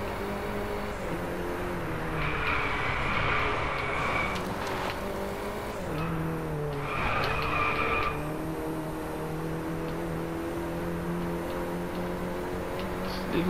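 A car drifts and skids in the racing game DRIVECLUB, its engine droning steadily while tires squeal in two long bursts, loud and close, with no speech.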